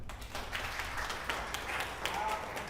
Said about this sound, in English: Can we have an applause for that?